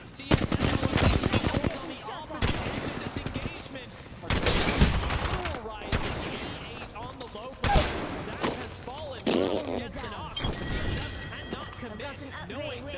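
Rapid bursts of gunfire in a competitive video game, loud, close and repeated across the stretch, with shotgun blasts among them, under excited commentary from players talking over the action.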